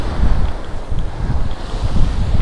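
Foamy sea waves breaking on a beach at Happy Island, a broad rushing surf wash heavily buffeted by loud wind noise on the microphone.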